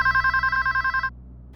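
A telephone at a women's police station rings in one loud, close electronic trill lasting about a second, then cuts off into quiet room tone.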